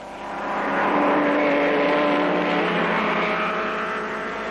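A 1930s Mercedes or Auto Union racing car roars past, a loud engine whine that swells up in the first second, holds and then slowly fades.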